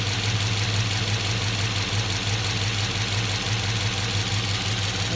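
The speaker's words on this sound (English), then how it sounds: "you can hear the fuel injectors clicking." A car engine idles steadily up close, with the fast, even ticking of its fuel injectors clicking through its low hum.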